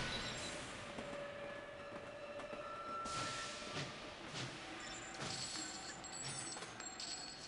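A train runs in the railway strategy game Sid Meier's Railroads, set in Great Britain, giving a continuous rumble with faint rhythmic clatter and occasional high wheel tones, steady and moderately quiet throughout with no talking.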